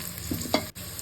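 Chicken fry piece biryani ingredients frying in a pan, a short burst of sizzling with a couple of stirring scrapes and a brief dropout, heard close with no talk.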